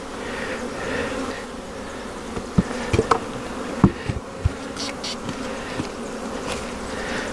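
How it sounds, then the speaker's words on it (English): Honey bees hum steadily inside a hive holding brood during a queenless split, a dense close drone with occasional louder buzzes as individual bees pass near, no voices. "It's already got a lot of bees in it"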